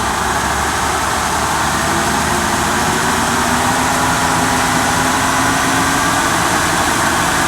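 Steady, loud drivetrain drone from a Mercedes ML320 with a failing driveshaft center support bearing, a sustained howl riding over engine and road noise throughout, with no talking.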